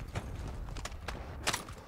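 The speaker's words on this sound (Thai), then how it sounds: "นี่เสียงคนลง" Several soft, dull thuds of a player's footsteps landing in Call of Duty: Warzone, spread irregularly, with one sharper impact near the end over low background rumble.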